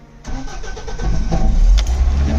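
A Mahindra BS6 CNG pickup's engine cranks and catches, then settles into a loud, close, rumbling idle that builds slightly over a couple of seconds.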